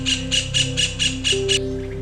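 Repeated harsh squawks from a bird, about seven evenly spaced calls, sound alarm as a white-throated kingfisher raids a bulbul nest in Sri Lanka, clear and fairly close over a steady low hum.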